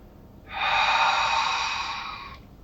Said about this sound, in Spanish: Y fíjate bien en el movimiento de la respiración.